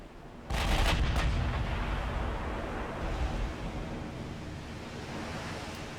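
Ship guns fire in a naval video game, a sudden heavy boom followed by a long rumbling, wash-like roar that slowly fades, no speech over it.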